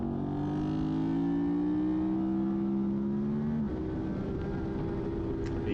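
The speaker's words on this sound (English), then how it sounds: "You can hear there, like the engine was quite low, quite lully" An SV motorcycle runs at low revs in third gear through a corner during a summer night track race, its engine a steady, loud, droning hum that shifts pitch partway through, with no voices.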